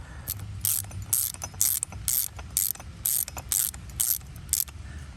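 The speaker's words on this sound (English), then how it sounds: "So I'm putting this bolt back in here, this bolt back in here." A ratchet tightens a bolt during a power steering pump replacement on a 1993 Toyota Corolla 1.8L. The pawl gives a series of quick, close clicking bursts in an uneven rhythm, with no talking.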